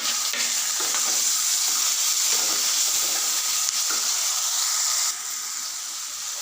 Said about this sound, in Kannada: ಟೊಮೆಟೊ ಹಾಕ್ಕೊಂಡು ಚೆನ್ನಾಗಿ ಫ್ರೈ ಮಾಡ್ಕೊಳ್ಳೋಣ